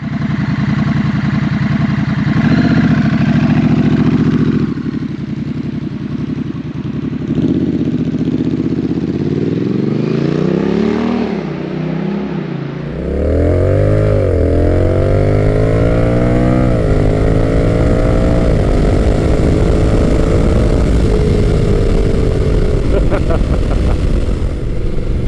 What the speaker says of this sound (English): I am currently riding Honda's Rebel 1100T DCT